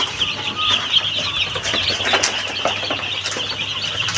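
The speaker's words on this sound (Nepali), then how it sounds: "चल्ला निस्केको ओए उफ्रिनु पो खोजेर त" Chicks newly let out flutter their wings and try to jump, making soft scrabbling and flapping sounds mixed with high, thin peeping that continues steadily throughout.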